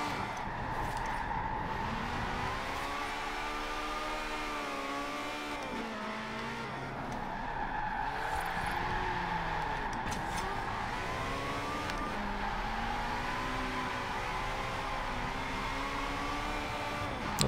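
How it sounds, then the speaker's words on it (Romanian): A car drifts with its engine revving hard, a continuous throaty engine note rising and falling in pitch through repeated rev swells, fairly close and steady across the whole stretch. "dacă are puțină viteză și se turează motorul, reușește cu greu să aibă puterea necesară să țină un drift"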